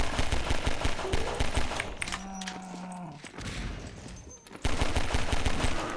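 Gunfire in a video game (a Doom-style custom map), with rapid loud bursts of shots at the start and end, plus a low mooing groan from a creature in between.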